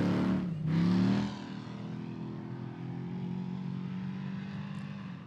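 A hot rod race car on a short off-road qualifying course at the Jeep Proving Grounds roars loudly at first, then its engine drone recedes into a steadier, more distant hum as the run continues.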